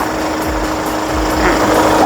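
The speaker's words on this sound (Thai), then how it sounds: "เครื่องยนต์ใหม่ๆแบบนี้เลยค่ะ" A 2018 Hyundai H1 Elite van engine idles steadily at close range, a constant low rumble with a faint mechanical whine, no voices.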